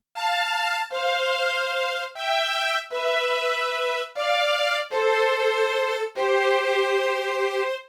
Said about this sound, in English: In the middle section, we'll bring in these strings for some variation.